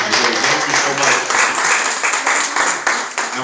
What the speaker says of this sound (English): Let's give our hostesses a hand clap also for serving.